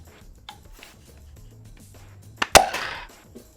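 A Frontline foam dart blaster fires a purple dart with one sharp, close snap near the middle, with a small click just before it and quiet around it.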